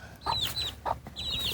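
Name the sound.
chickens clucking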